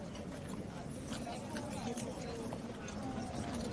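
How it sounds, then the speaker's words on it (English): Horse hooves clip-clop at a run as a trooper goes out after a loose horse, steady rapid hoofbeats heard under constant broadband noise and speech. "Trooper's running out to try and get the other horse."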